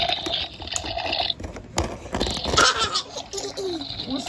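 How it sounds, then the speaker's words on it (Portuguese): Toy baby seat playing a bright electronic water sound effect with bubbly, trickling tones mixed with a cheerful baby-laugh jingle, close and moderately loud with short pauses. "O som da água."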